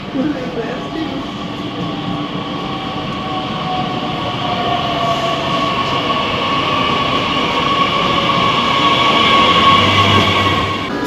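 A train rumbles steadily into a station, a loud continuous roar with humming tones that grows slightly louder as it comes closer.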